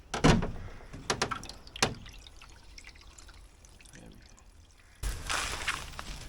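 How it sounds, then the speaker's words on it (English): Water drains out of the buoyancy tanks of a Mirror dinghy in irregular splashing and trickling bursts, with drips and a louder gush near the end, close by and mixed with some talk. "We'll try and just get that water to come out at the bottom there."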